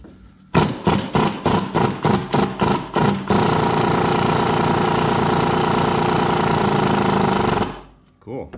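An Ingersoll Rand impact wrench loosens a bolt on a Cub Cadet RZT-54 zero-turn mower, hammering in about ten sharp rapid bursts before settling into a continuous rattling run, then stopping abruptly.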